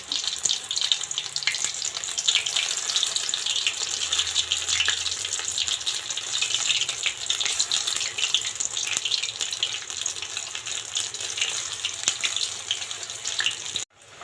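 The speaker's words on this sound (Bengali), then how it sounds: "তেলের মধ্যে ফুলকপিগুলো ছেড়ে দিচ্ছি। বেসনে ডুবিয়ে ফুলকপিগুলো ভেজে নিই।" Cauliflower pieces dipped in gram flour batter fry in hot oil with a steady, dense sizzle and crackle that holds close and loud throughout, ending abruptly.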